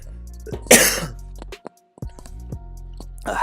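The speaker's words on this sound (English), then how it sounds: "Well, I have to cough." Someone clears their throat and coughs a few times in quick bursts, close up, with short pauses between and a brief vocal sound nearby.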